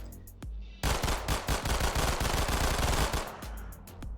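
Rapid pistol fire from a S.T.A.L.K.E.R. game with the Gunslinger mod, a loud burst of closely spaced shots lasting a few seconds after a brief click, then trailing off into echo.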